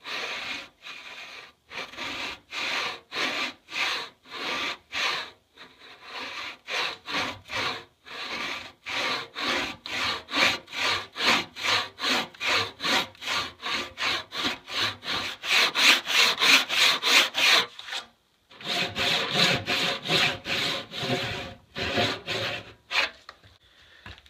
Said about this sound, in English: Now time to put my freshly sharpened crosscut saw on the job.